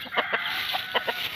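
Pet chicks at feeding time peep and cheep in quick, bright bursts, several short calls spaced irregularly and heard close by.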